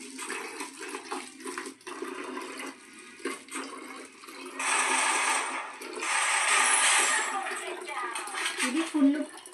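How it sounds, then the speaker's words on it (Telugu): Water splashes and gurgles into a bottle wrapped around its outside, pouring in two longer bursts with clinks and handling noises between them; someone talks intermittently nearby. "ఇప్పుడు అందులోనికి వాటర్ అయితే చేద్దాం"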